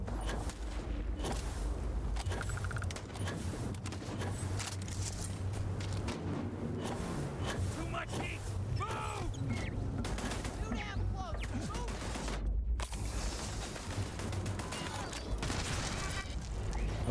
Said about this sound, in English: That was a turret.